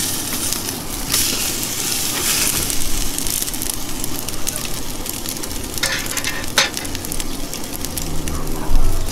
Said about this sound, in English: We're probably gonna sear off some of that fat as well